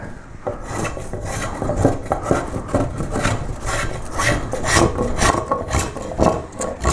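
A hand carving tool rasps steadily over a wooden koi carp carving, smoothing ridges and rounding the body with continuous close scraping strokes, with no speech.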